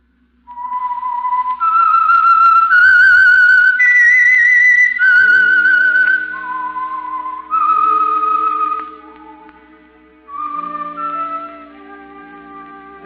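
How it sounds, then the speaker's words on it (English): The whistled theme tune of the radio drama The Whistler, clear and loud, the phrases rising and falling, with a low sustained accompaniment joining partway through. "That whistle is your signal for the Signal Oil program"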